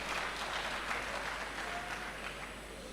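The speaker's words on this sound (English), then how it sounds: "A round of applause for him." An audience at a Nigerian Defence Academy convocation lecture applauds a recognised guest, a continuous, even patter of many hands in a large hall that gradually eases off, with no talking over it.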